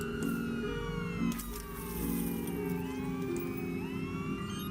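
Ambulance siren in the video game Watch Dogs 2, a steady wailing tone sweeping up and down over continuous traffic and engine rumble, fairly loud and close throughout.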